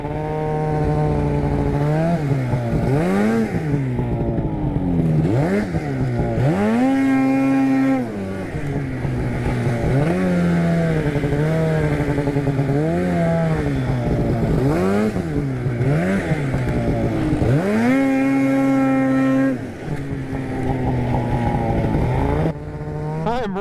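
A snowmobile, a Polaris RMK, revs hard under a finger throttle, the engine note climbing and falling in repeated loud surges, close up and continuous with no talk.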